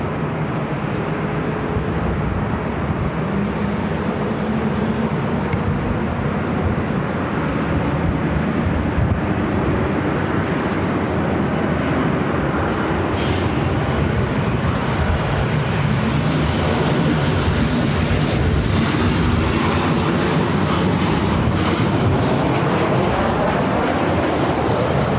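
Heavy airliner on runway 24 left at LAX, a loud, continuous broadband jet roar that holds steady throughout without pause.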